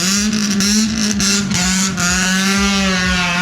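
A Honda Civic engine revs loudly and steadily up close, its deep rumbling drone rising and holding with a few sharp pops.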